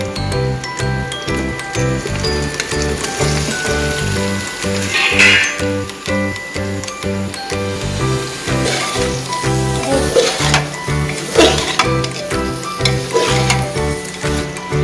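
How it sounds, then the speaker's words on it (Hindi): Jackfruit pieces are stirred into spiced oil over high heat, making loud, close sizzling with a rhythmic clatter of the spoon against the pan throughout, and no talking. "अब इसमें हम अपने कटहल को डाल के अच्छे तरीके से चलाएंगे"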